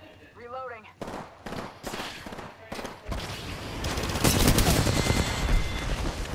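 Rapid gunfire bursts from weapons in the battle royale shooter Apex Legends, dense and loud, building into sustained automatic fire in the second half, with players talking over the shooting.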